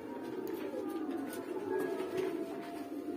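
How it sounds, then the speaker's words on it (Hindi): Breeder pigeons coo in a steady, low murmur, several birds overlapping close by in a loft kept for highflyer tournaments, with no voices over them. "ब्रीडर कबूतर है इधर पर, सारे कबूतर ब्रीडर है"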